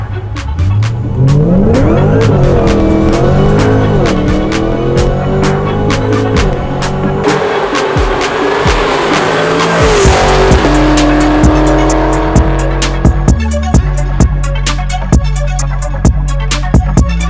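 A Cadillac CTS-V3 engine revs hard and loud on a dyno with squealing, spinning tires, pitch rising and falling through sustained acceleration, punctuated by sharp clicks and knocks.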